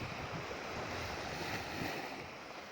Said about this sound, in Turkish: denizin huzur dolu sesini dinletmek istiyorum size